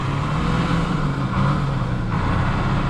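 A Scania 143 truck engine runs loud and close under restoration, a steady heavy diesel roar with a low rumble that swells slightly as it revs, alone without talk.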